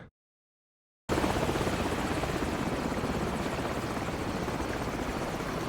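A helicopter in Call of Duty kicks in loudly after a second of silence, its rotor beating in a fast steady chop over a dense engine roar that stays close and constant.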